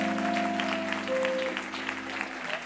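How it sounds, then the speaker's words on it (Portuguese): Congregation applauding during a Pentecostal deliverance service in a Brazilian church, steady dense clapping at moderate level over a sustained organ or keyboard chord for the whole stretch. "Aplaude o nome do Senhor."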